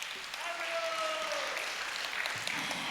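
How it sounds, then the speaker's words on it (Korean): A church congregation claps for the worship team at a young adults' and university students' joint worship service. The applause is a faint, continuous patter, heard alone and fairly distant throughout. "찬양팀께 다시 한번 큰 박수 부탁드리겠습니다"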